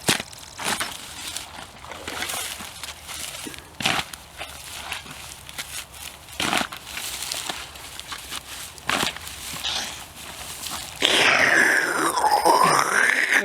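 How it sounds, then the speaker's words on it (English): Cutting by hand through wetland sod thick with reed canary grass: repeated heavy crunching, tearing chops at uneven intervals, close up, with grunts of effort and a rougher scraping burst at the end. "Okay, I'm here to cut through that sod."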